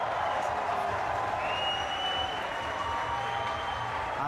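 A crowd at a competition claps steadily in dense, sustained applause that fills the space, with a few faint whistles or cheers riding on top.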